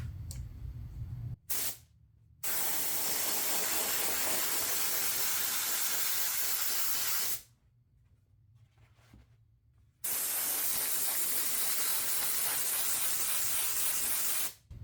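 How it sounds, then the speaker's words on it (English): Contact adhesive spray glue hissing from a cheap Harbor Freight spray gun onto canvas, in long loud continuous bursts broken by short pauses, with no talking. "What I use is a spray glue."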